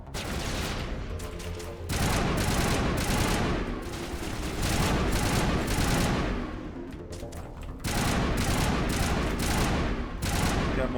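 Rapid automatic gunfire in Mass Effect crackles in long bursts separated by short pauses, loud and close, with no voices.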